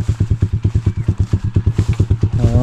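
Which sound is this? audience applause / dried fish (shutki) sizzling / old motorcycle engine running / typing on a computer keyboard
old motorcycle engine running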